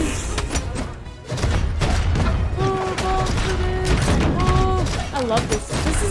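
Repeated explosive booms and thumps from bombs in the fighting game Brawlhalla, a steady run of blasts mixed with game music and a voice talking over them.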